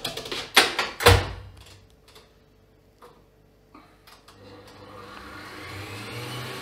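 An electric mixer starts whipping 500 grams of heavy cream in a home kitchen. A few loud clatters come first, then a pause, then a steady motor whir builds and runs faintly to the end.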